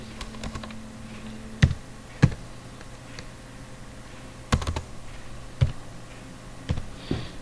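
Keys tapped on a computer keyboard to enter text, a sparse run of light clicks with a few louder, separate strikes spread through a quiet room.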